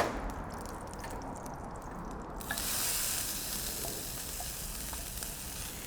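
Beef tallow and vegetables sizzle on a hot griddle, a steady close frying hiss that swells louder partway through as more food hits the fat, with no talking.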